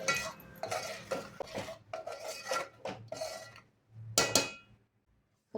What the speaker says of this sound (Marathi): काळ्या वाटण आता मस्त आपण तेलामध्ये भाजून घेऊया